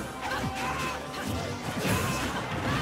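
Heavy down smash attacks land in a Super Smash Bros. Wii U doubles match, giving several sharp crashing impacts and whooshes over constant game and crowd noise.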